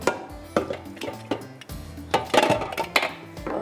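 Paneer darbari is spooned from a pan into a serving dish, producing a string of sharp metal-on-ceramic clinks and scrapes at an uneven rhythm, close and moderately loud, with short pauses between strokes.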